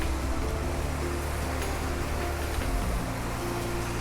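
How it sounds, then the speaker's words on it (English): River Wye in Derbyshire's Peak District flowing steadily, a broad, continuous rushing wash of water with no pauses, moderately loud and close, with no voices. "So this is the River Wye."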